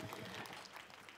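Audience applause at a conference session for two youth council members, a short, steady wash of clapping from a seated hall, fairly quiet and distant, with no voices over it.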